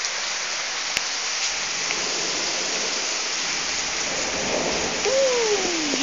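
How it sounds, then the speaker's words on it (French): Heavy rain from a thunderstorm hisses steadily while a low rumble of thunder swells faintly underneath; a brief whistling tone slides downward near the end. "Il gronde bien là à l'orage."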